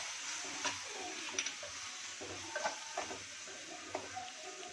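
Masala with green chilli sauce sizzles and fries in a pan, with a soft steady hiss and occasional scraping clicks of stirring, faint and close, no talking.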